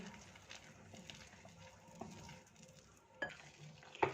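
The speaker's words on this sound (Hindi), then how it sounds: "और इसे अच्छी तरह से मिक्स कर लेंगे।" A spoon stirs a thick pakora batter in a bowl as water is mixed in, giving soft wet sloshing with a few sharper taps against the bowl. The sound is quiet and close, with no voices.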